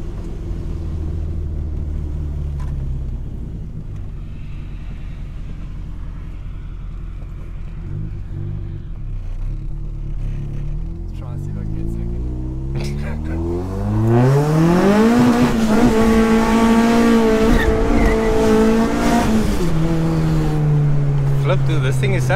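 A Mk1 Fox with a 2.0 16V engine on individual throttle bodies idles with a steady low rumble, then accelerates hard. Its revs climb loud and close through the gears as people talk in the cabin.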